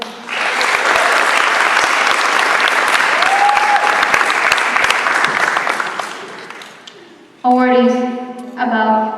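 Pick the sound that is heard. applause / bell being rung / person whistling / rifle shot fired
applause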